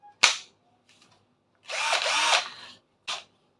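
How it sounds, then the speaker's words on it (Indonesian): Battery-powered cordless drill, used for driving screws or boring into walls, gives a short whir, then a loud sustained burst of nearly a second, followed by a brief final spin, with no talking. "power tool, yaitu board cordless"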